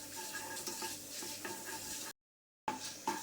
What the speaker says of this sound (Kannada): ಚೆನ್ನಾಗಿ ಹುರಿಬೇಕು.